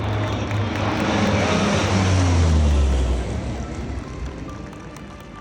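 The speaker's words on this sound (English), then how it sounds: "Here it comes, a C-130 Hercules aircraft from the 103rd Airlift Wing." C-130 Hercules from the 103rd Airlift Wing flying over, a loud broad roar of turboprop engines with a low droning tone that swells and then slowly recedes.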